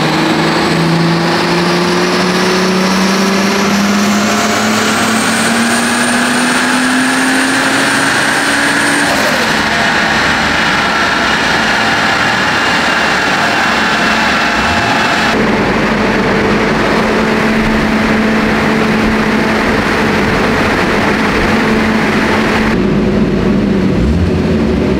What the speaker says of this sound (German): dann geben wir jetzt gleich noch 2-3 Mal Gas